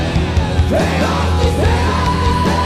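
A heavy metal singer in a song pushes a loud, strained shriek into wavering melodic lines, sustained and piercing over dense guitar and drums.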